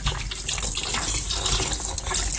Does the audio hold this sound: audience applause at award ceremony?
no